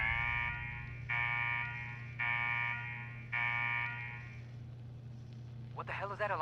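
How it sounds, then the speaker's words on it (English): An alarm blares in Fallout 4, sounding in three long harmonic blasts with short gaps over a steady low hum, then fading out before a voice speaks at the end. "What the hell is that alarm?"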